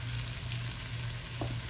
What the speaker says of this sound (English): to brown those onions and peppers